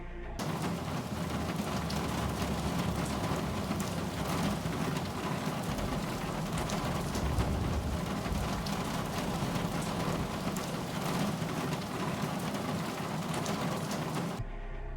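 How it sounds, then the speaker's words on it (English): Steady rain pours down at a bus stop in Dying Light 2, a dense continuous patter on hard surfaces that holds an even level from start to finish. "sitting at a bus stop in the rain and listening to the sound design do its thing"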